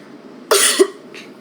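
A single sharp, forceful cough bursts out close by, then a fainter short huff follows a moment later.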